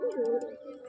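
A large, lively pigeon gives a short, close and clear coo, a low throaty warble that rises and falls once.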